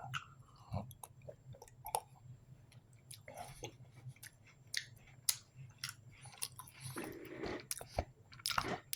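Close-up crunchy bites and chewing of a cookie, with irregular crisp crackles and soft squishy mastication sounds continuing steadily, fairly quiet and near, with no talking.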